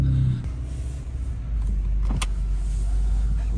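Several cars being turned around at a car meetup: close, steady low engine rumble with a brief mechanical whine partway through, and no talk.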